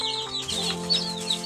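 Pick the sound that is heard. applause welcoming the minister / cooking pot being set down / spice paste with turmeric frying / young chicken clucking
young chicken clucking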